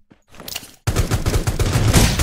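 Gunfire in Rules of Survival: after a quiet start with a few faint shots, a loud rapid volley of shots kicks in abruptly and keeps hammering to the end.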